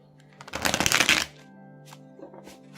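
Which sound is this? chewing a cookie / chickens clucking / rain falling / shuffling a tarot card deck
shuffling a tarot card deck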